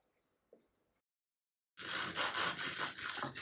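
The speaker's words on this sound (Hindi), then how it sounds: "जैसे आप सुन सकते हैं कितने क्रंची है" Knife cutting through a crispy fried bread chicken spring roll: a few faint ticks first, then after a brief silence a loud, close, continuous crunchy rasping as the crust is sawn through.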